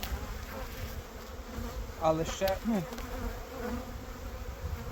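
A steady close drone of honey bees buzzing around a hive frame carries throughout, with someone speaking briefly over it midway.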